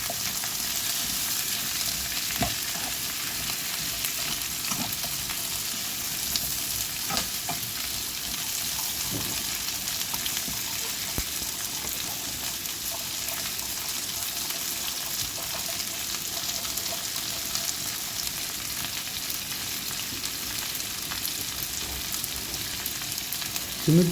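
String beans stir-fry in garlic-flavored oil in a pan for pinakbet, with a steady loud sizzle throughout. Occasional scraping and stirring clatters rise above it.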